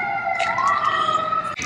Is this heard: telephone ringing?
no